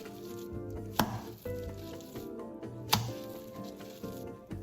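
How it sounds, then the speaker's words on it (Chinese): Minced meat filling is thrown and slapped down into a bowl, with two sharp, distinct slaps about two seconds apart over faint background clatter in a quiet kitchen. "最后再将肉馅用力抛摔几次，直到肉馅变得带点粘性"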